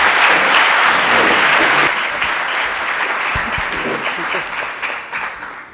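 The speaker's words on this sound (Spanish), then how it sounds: "comencemos con un fuerte aplauso" Audience applause welcoming a guest speaker, loud and dense at first, then gradually thinning and fading toward the end.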